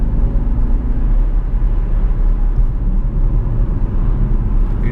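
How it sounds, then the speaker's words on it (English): Jaguar XF 5.0 litre V8 S in race mode, a deep steady engine rumble with a heavy low drone, loud and close from inside the car, no talk. "Everybody should have a 5-litre V8."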